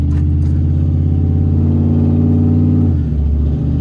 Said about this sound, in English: It runs okay once the throttle body gets open.